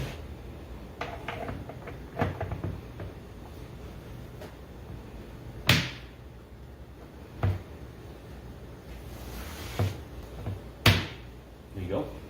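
A flat-packed RTA cabinet box is set down into a cart, giving a few sharp wooden knocks and thumps near the mic, spaced apart over the clip, with faint handling noise between them.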